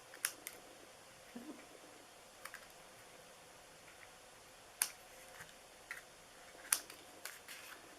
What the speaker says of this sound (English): And on this side I'm going to trim them going this way.